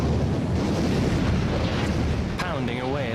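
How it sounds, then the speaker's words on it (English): Warships numbering about 200, including battleships, cruisers and destroyers, bombard the Normandy coast in 1944 with a dense, continuous roaring rumble of gunfire, loud and close. A voice briefly cuts in near the end. "200 ships bombard 50 miles of the Normandy coastline."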